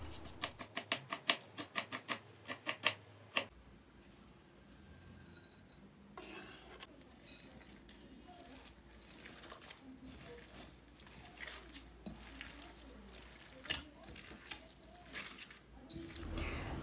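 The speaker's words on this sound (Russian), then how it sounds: "перемешиваем все хорошенько" Utensil scraping and clinking against a bowl while a thick meat and raw rice filling is stirred, a brisk run of sharp taps early, then steady softer mixing sounds.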